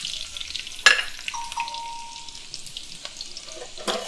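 Shallots dropped into hot oil in a pan give a sudden loud sizzle, then a lighter, steady frying crackle with a few sharp pops and clinks later on.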